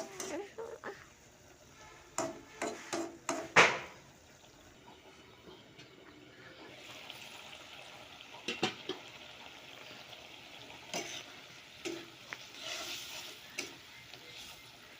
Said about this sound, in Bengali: এখন দিয়ে দেব এই যে ভাজি করা চিংড়ি মাছ।